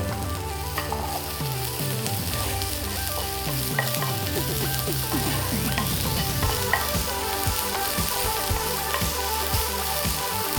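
Garlic and finely chopped green chillies frying in a pan, a loud, continuous close sizzle with stirring scrapes and clinks of a utensil against the pan throughout, no voices.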